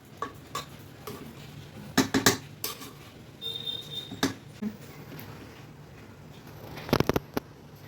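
A utensil stirs ghee into a pot of Nagpur-style mutton biryani, giving sparse metallic clinks and scrapes, some in quick clusters, over a quiet background.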